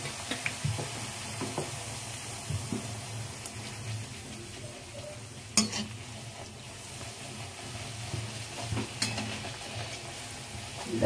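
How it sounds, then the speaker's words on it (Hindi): Bathua saag puris frying in hot oil in a home kitchen, a continuous bubbling sizzle with occasional sharper crackles and pops, close and steady throughout with no talking. "मैं देखिए तेल में डाल दे रही हूँ, तेल गर्म हो गया"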